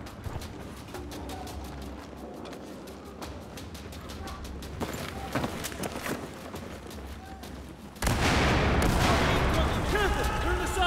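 Gunfire in the video game Battlefield 4 while shooting targets, rapid bursts of repeated shots and running footsteps, with a sudden louder blast of noise near the end, heard over background game sounds.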